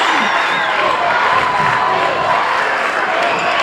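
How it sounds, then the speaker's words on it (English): A high school basketball crowd at a regional boys' championship game cheers and shouts loudly in a sustained roar, with whoops rising above the noise of the packed gym. "E-Town crowd coming to life now"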